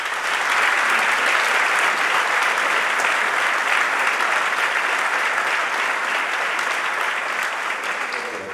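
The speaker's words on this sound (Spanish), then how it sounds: "un aplauso para ellos" Sustained, dense applause from an audience at an anniversary ceremony for a food bank in Asturias, loud and even throughout before easing slightly at the end.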